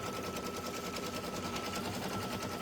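An embroidery machine stitching out a large stuffy on a 9x14 hoop at raised speed, giving a continuous rapid needle chatter, even and moderately loud, with no pauses.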